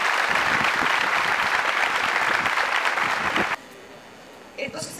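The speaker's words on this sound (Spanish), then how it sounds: "Un fuerte aplauso a la bandera, a Duarte, a Sánchez, a Milla." Loud, steady applause from an audience at a school tribute to the Dominican flag and founding fathers during the month of the homeland, lasting about three and a half seconds before cutting off to quiet room noise with a brief voice.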